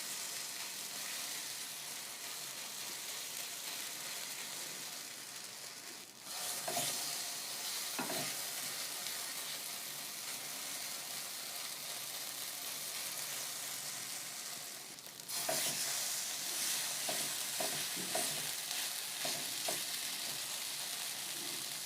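Pongal adai frying in oil on a pan, a soft continuous sizzle and crackle that grows slightly louder at two points as batter or oil is added, with no talking.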